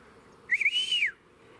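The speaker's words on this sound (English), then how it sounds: "he gives out a big whistle" A loud, near whistle sounds in quiet woods by an old cabin, lasting about half a second: a quick warble that swells into one sustained rising-then-falling tone, with nothing else audible.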